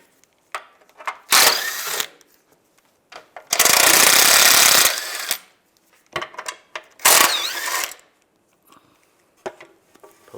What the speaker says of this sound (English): Use a 15mm socket.